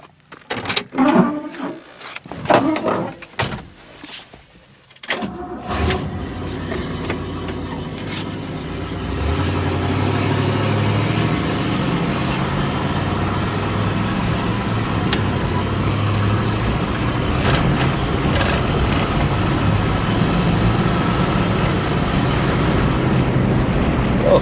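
A 1963 Oldsmobile engine fires up after a few uneven cranking bursts, then settles into a steady, loud rumble as the car rolls slowly down a driveway on light throttle.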